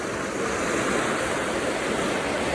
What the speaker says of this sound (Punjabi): ਬੜੀ ਪ੍ਰੈਸ਼ਰ ਦੇ ਨਾਲ ਪਾਣੀ ਹੈ ਜੀ